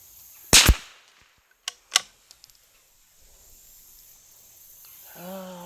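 Savage Anschutz Mark 10A rifle firing its last round: one sharp, loud crack followed by a few fainter clicks of the action, then quiet until a brief voice at the end.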